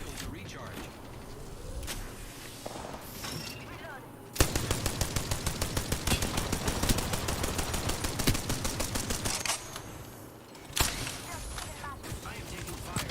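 Rapid automatic gunfire in a late-night video game session, a steady burst of evenly spaced shots lasting several seconds, preceded and followed by quieter scattered game noise and shooting.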